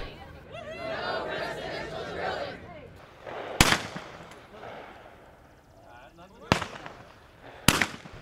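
Shotgun blasts at a Cops and Clays charity clay shoot at the North Macomb Sportsman's Club, three sharp loud cracks spaced seconds apart over outdoor crowd chatter.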